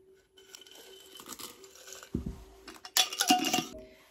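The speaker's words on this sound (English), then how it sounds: "Now, in this one, I'm going to add my dehydrated squash." Dehydrated squash pours into a glass mason jar in a few short bursts of dry, rattling pieces, with light clinks against the glass, close and fairly quiet.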